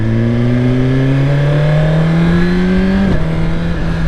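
A Suzuki GSX-R 1000R motorcycle engine revs loudly while being ridden, its pitch climbing steadily through a gear, then dropping at a shift and pulling again, close and continuous.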